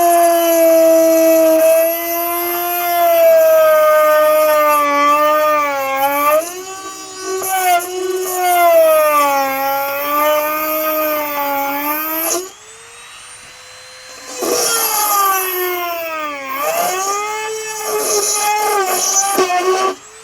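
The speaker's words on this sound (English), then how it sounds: "So drilling and dremeling and dremeling and drilling, we managed to get the hole" A drill and a Dremel grind and clean up a hole. The high, whining tool motors rise and fall in pitch, first in one long run that stops abruptly, then again in shorter bursts after a brief lull, loud and close.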